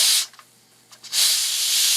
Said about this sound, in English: We'll release some of the steam here